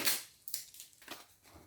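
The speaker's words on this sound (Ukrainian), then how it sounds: "Зараз я намагаюся його здерти. Знімаю скотч." Sealing tape is peeled off a closed parcel box in a few short, raspy ripping bursts, close and fairly quiet, with brief pauses between pulls.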